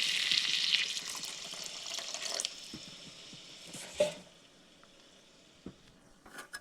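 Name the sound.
water poured into pan of spiced peas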